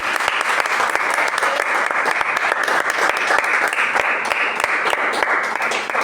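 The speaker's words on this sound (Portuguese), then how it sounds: "Vamos receber hoje da igreja com palmas bem forte e alegre para Jesus." A church congregation claps for Jesus, a loud, fast, continuous burst of many hands applauding together, close and unbroken with no speech over it.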